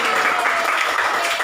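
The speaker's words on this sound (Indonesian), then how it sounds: "Kita berikan tepuk tangan yang meriah untuk adik Walidayatri." Brief burst of audience clapping, a short even wash of many hands at moderate loudness with no pauses.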